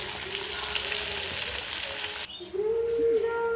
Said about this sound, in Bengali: মাছটা ভাজা হয়ে গেল